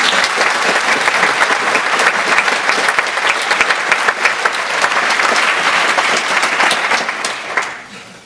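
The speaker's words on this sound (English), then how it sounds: "So a big round of applause for all you guys" Loud, sustained applause from a large crowd at a live lecture event, dense clapping throughout that tapers off near the end.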